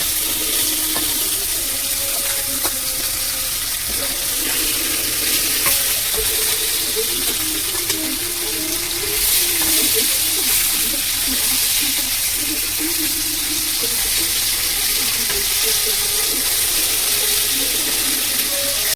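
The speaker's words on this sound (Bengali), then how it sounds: "মাছটা ভালো করে ভেজে নেব" Tilapia pieces frying in hot oil in a pan give a steady, close sizzle with dense crackle and bubbling throughout, loud and continuous with no talk over it.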